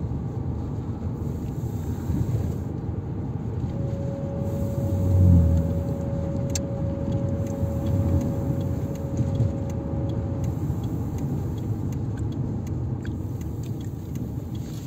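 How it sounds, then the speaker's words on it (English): Road traffic on an island rumbles steadily throughout, a continuous low wash of cars passing at moderate distance with one louder swell midway and a faint sustained engine tone. "Wow, look, there's traffic all around here."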